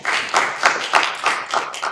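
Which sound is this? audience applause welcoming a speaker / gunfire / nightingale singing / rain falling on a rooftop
audience applause welcoming a speaker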